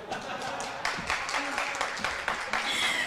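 A crowd applauds the winner of an auto race at Kawaguchi Auto Race track, steady dense clapping filling the air throughout with a few brighter peaks, voices mingled in the background.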